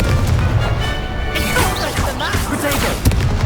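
The Confringo fire spell exploding in Hogwarts Legacy, a loud crashing boom with whooshing debris, mixed with game voices and effects.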